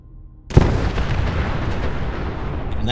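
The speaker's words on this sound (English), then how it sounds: "I'm gonna shoot every one of them." Gunfire erupts in the video game Fallout 4: a sudden heavy blast followed by a dense, sustained roar of shooting and explosions, loud and continuous.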